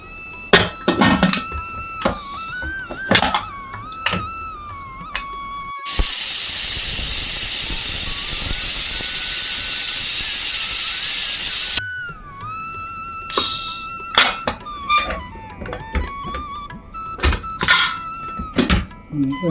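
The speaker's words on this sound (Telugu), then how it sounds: "ఇప్పుడు కుక్కర్ పెట్టి 10 విజిల్స్ వచ్చేదాకా చూద్దాము" A pressure cooker cooking mutton paya (goat leg soup) lets off a long loud sustained steam whistle and hiss in the middle, framed by shorter whistling toots, clanks and kitchen knocks before and after.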